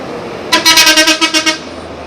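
A bus horn blares at Pekanbaru bus terminal as a Sempagul bus from Sidimpuan pulls in: about a second of loud, rapidly pulsing honks, close by, with no talking.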